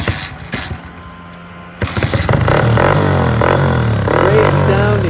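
A 2004 Honda CRF150F youth dirt bike engine revving through its exhaust pipe, starting with short blips, then a loud, close, sustained run of rising and falling revs with a rough, throaty tone.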